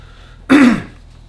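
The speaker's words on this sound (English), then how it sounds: "Let me clear my throat." A single short, close throat clear, one rough guttural burst in an otherwise quiet moment.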